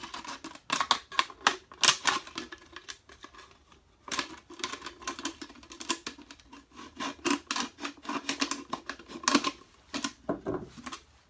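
A plastic bottle being cut with a blade to form a minnow trap, close crisp snipping and crackling bursts in irregular clusters with short pauses between.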